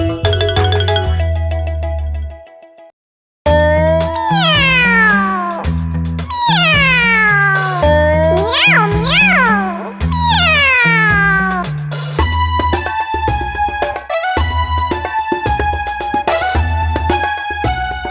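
Loud, repeated cat meows with sliding pitch sound over a bright musical backing in a Hindi children's rhyme, coming in a series of rising and falling calls.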